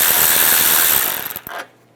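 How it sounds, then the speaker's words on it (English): An 8mm socket on a ratchet backs out a headlight screw on a 2006-2009 Mercedes-Benz E350, a steady rapid clicking up close that breaks into a few separate clicks before stopping. "Using an 8mm socket, take this screw out under here"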